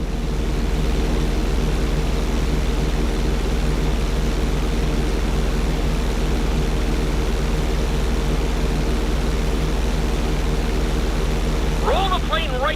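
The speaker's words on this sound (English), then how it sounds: "Hold the plane upside down for several seconds." Airplane flying upside down in the GTA V video game: a loud, steady engine drone with a low hum that stays constant throughout, with a brief rising tonal sound at the very end.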